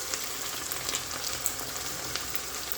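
A ground paste of big onions and green chillies fries on high flame for egg malai curry, giving a constant dense sizzle with small pops and crackles throughout, close and steady with no talking.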